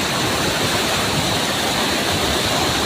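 Water rushing down a mountainside, a dense, steady roar of flowing water close to the listener with no pauses or other sounds.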